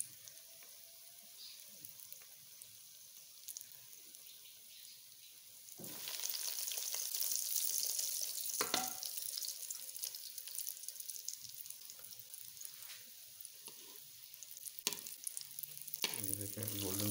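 Potato cutlets frying in hot ghee over a low flame: a quiet room, then a steady close sizzle that suddenly swells and stays even, with a few sharp clicks and pops along the way.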